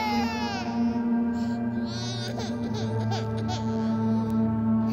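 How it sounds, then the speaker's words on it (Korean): A haunted doll gives off an infant's crying wail over a sustained low droning tone, loud and continuous, with the cries rising and breaking across the few seconds. "애기 울음소리가 나는데"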